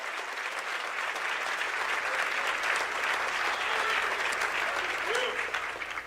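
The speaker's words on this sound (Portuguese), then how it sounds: "Você consegue aplaudir ao Senhor pela sua palavra agora?" A church congregation claps steadily and evenly throughout, a full room of hands sustaining warm applause for the whole stretch, with faint voices mixed underneath.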